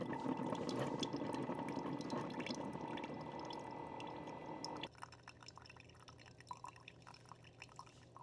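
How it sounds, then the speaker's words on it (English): A Ninja coffee maker brews with a steady gurgling, hissing flow that drops abruptly to a lighter drip and trickle partway through; no talking. "So I'm going to click this and it's going to start brewing."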